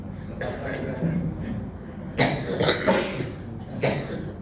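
Several short, harsh coughs come in separate bursts amid a murmuring indoor background, fairly close and moderately loud.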